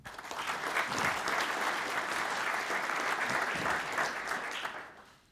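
An audience at a presidents' panel on education applauds to welcome Dr. Bruce Harmon, steady dense clapping from a large crowd that swells quickly, holds for several seconds, then fades out.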